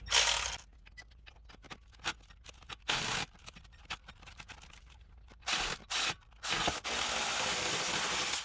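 A hand tool loosens the upper ball joint bolt on a Chevy Silverado front suspension, giving quiet, close, intermittent ratcheting clicks and scraping strokes, then a longer, steadier rasp near the end, with no talking.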